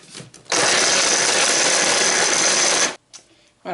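A food processor grinds Ferrero Rocher chocolates into crumbs, a loud, steady whirring roar that runs about two seconds and cuts off abruptly, with faint handling noises before and after.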